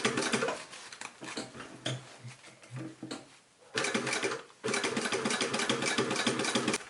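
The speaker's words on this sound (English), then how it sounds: "I'm going to sew this piece here now." Sewing machine stitching fabric for a roll-top bikepacking frame bag, with bursts of fast mechanical whirring separated by pauses and slower stitches, close and clear.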